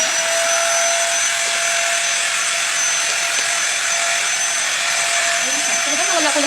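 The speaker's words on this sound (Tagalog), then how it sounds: "Ngayon, mag-try tayong mag-vacuum" A vacuum cleaner runs steadily on a floor, giving a loud continuous high whine and airy roar throughout, close to the listener, with a faint voice near the end.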